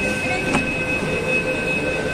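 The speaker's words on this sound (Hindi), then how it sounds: "चलो हमारी मेट्रो आ गई" A Nagpur Metro train pulls into a station with a steady rumble and a faint high tonal whine, a brief hiss near the start, and ambient crowd noise throughout.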